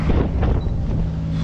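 Steady wind of about 14 knots rushes over a sailboat with its sails down on the Odet river, a continuous close roar and rumble with no break.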